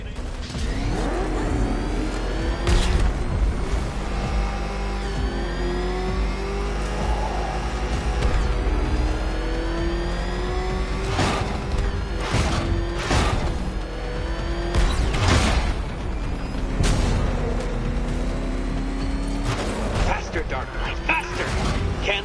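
A ramshackle car engine in a video game revs and drones loudly, its pitch rising and falling as it accelerates, with a voice speaking over it throughout.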